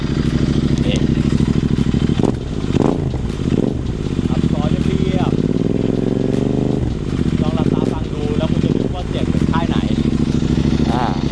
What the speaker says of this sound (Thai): เดี๋ยวฟังเสียงท่อครับ